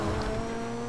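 Car engine in the video game GTA V roaring steadily through a U-turn, loud and continuous with a faint tire squeal, no voices over it.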